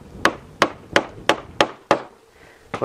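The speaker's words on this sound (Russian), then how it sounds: "Можно чуть-чуть подстучать молоточком, и будет ясно, значит, где сколько еще снимать." Small hammer tapping a new handle into a hammer head, seven sharp close knocks in a steady rhythm of roughly one every third of a second, with a short pause before the last two.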